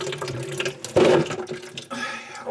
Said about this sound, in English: open the faucet and it breaks the suction so the water will run back down out of the pipes